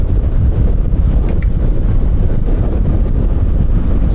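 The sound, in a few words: strong wind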